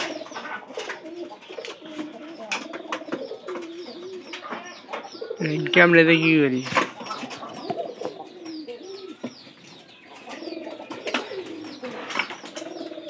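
Pigeons coo repeatedly near and far, a soft, steady layer of calls behind someone talking throughout, with a louder burst of bird calls and flutter around the middle.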